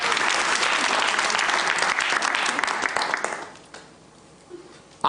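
Studio audience at a Georgian late-night talk show bursts into loud, dense applause that holds steady for about three seconds, then quickly dies away to near silence.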